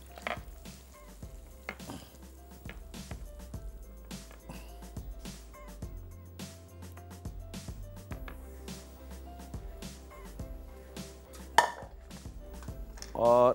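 Dahi chicken is served out of a handi with metal utensils, giving scattered scrapes and light clinks of serving spoon against pot and dish over a steady background of music.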